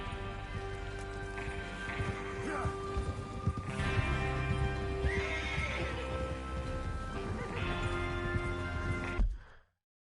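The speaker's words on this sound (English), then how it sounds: "Get your horses ready." Several horses whinny and snort over a steady clatter of hooves in the video game Red Dead Redemption 2, with a low rumbling backdrop; the sound cuts off abruptly near the end.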